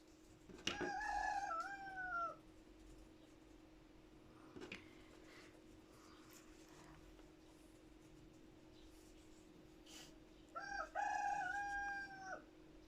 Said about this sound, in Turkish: Bizim horozun sesi de geliyor arkadaşlar arkadan